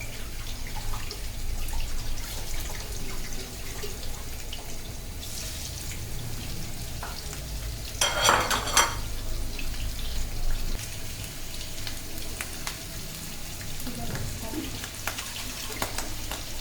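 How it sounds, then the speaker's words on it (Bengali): Hilsa fish frying in a little oil, a steady close sizzle that runs throughout, with a brief louder burst near the middle and faint clinks and water-like drips. "অল্প তেলে মাছটা ভাজতে হয়।"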